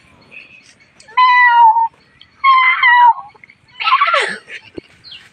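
Children imitate a cat with two close, clear meows in a row, followed by a burst of giggling laughter.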